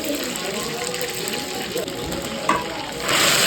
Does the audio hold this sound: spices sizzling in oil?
yes